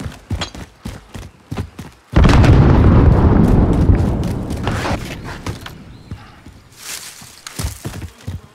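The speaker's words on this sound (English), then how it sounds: "Throwing grenade!" A grenade goes off in Call of Duty Warzone with one loud, sudden boom that rumbles and fades over a few seconds. Sharp footsteps and small clicks sound before it, and more scattered pops follow.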